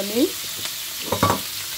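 Chopped onions fry in a pan with a soft sizzle, interrupted by a few clinks and scrapes of stirring, brief and close.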